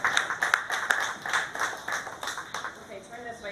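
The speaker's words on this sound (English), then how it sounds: "Let's give Austin a round of applause" Audience clapping for a young exhibitor at a county fair pet show in Humboldt County, a steady patter of hands lasting a few seconds at moderate distance before tapering off.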